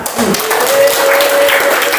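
A classroom of students bursts into brief, bright applause that lasts a couple of seconds, with a few voices mixed in.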